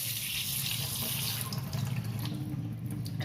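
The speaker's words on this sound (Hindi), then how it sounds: "गरम पास्ते में मैं ठंडे पानी डाल करके धो लूँगी इस तरह से।" Cold tap water pours over hot cooked pasta to rinse it, a close, steady hissing splash from the faucet that shifts partway through as the flow lands differently, with no speech.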